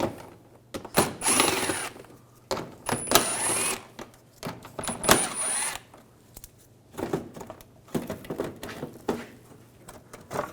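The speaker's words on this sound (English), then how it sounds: "Use an 8mm socket. Take these screws out." Screws being backed out of a trim panel on a 2006-2010 BMW 550i with an 8mm socket, heard as bursts of ratcheting and whirring between quieter pauses, close and fairly loud, with no talk.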